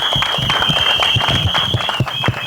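Audience clapping at a Bollywood press event with the cast of the series Hunter, steady applause mixed with crowd noise and a constant high electronic whine running underneath.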